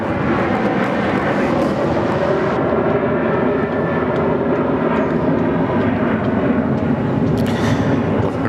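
A Rex Airlines plane passes overhead at Sydney Airport with a loud, sustained engine roar that stays steady throughout, heard alone.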